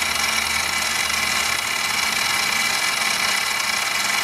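An Arduino-controlled CNC conversion of a mini mill making a cut, a steady, close, whining motor drone with a dense high-pitched hum and constant machine noise throughout, no voices.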